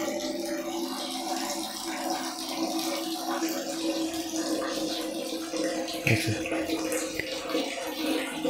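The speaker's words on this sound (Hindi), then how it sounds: "दोस्तों 2 मिनट में पूरा बाल्टी भर जाएगा, वो भी गर्मा गर्म पानी से।" Hot water from a Mr Shot 1-litre geyser runs steadily into a bucket, a constant close splashing rush, while someone talks briefly over it.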